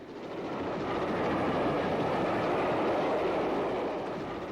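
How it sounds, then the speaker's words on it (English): A Black 5 class steam locomotive hauls a passenger train up the climb to Shap through the Lune Gorge on the West Coast Main Line, a broad, continuous rumble that swells and fades slightly as it passes. "This passenger train on the ascent to Shap is followed by a freight in the Lune Gorge"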